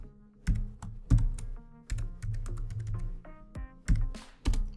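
Fingers type a short command on a computer keyboard, a close run of irregular clacking keystrokes with a few louder key hits, and no talk.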